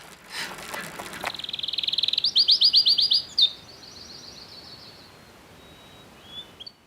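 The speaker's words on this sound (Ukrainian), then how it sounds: "Я хочу наостанок послухати, як співають птахи." A small bird sings a rapid, rising trill of bright chirps, then trails off into a few thin high notes against a quiet outdoor background.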